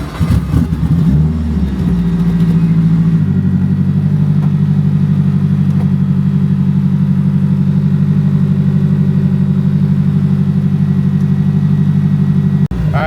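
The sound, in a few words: 1000 HP AWD Honda Civic accelerating during street pull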